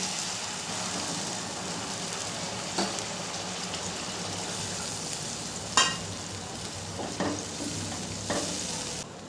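Loud, steady sizzling as hot water is poured over fried potatoes and pointed gourd in a pan, a continuous hiss with occasional stirring clinks and scrapes throughout.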